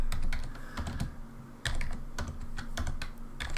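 Fast typing on a computer keyboard, with a dense run of close, clicky keystrokes under a steady background hum and no speech.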